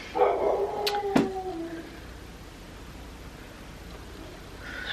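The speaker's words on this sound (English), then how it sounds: "Penelope is barking." A dog gives two quick barks in the distance over a steady background hum, then only the hum remains.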